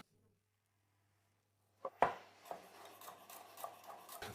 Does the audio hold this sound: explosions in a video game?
no